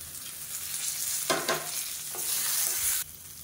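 Ginger, garlic, spices, bay leaf and mint frying for a mushroom biryani masala, a close steady sizzle with bursts of stirring scrapes, and no talking.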